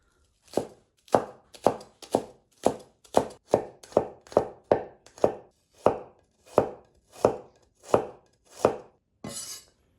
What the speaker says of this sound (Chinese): 切点葱姜蒜